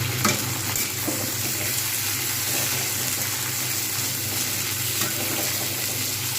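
Beans and potatoes frying with browned onions in a pan for a Bengali rohu fish curry give a steady, close sizzle with faint stirring scrapes, no voices.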